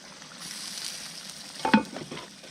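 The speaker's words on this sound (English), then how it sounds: "Oh yeah, we're boiling down good." Picadillo simmering in a Dutch oven at a campsite, a steady close bubbling and sizzling hiss with a brief louder burst of stirring or clatter partway through.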